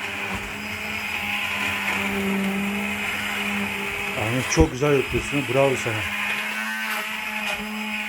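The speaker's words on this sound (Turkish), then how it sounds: "kabaklarımız piçti ve şu an onları püre yapıyoruz. Mikserle." A hand mixer whirs with a steady motorized drone as it purees cooked squash for soup, falls quiet while someone speaks, then starts up again.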